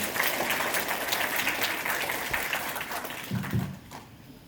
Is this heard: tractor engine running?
no